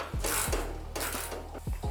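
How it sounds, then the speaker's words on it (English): A ratchet wrench cranks bolts back into the factory spoiler mount of a Mustang, with sharp repeated clicking pawl bursts separated by short pauses, close and clear with no voices. "now all we have to do is reinstall the same bolts we took out of the original spoiler"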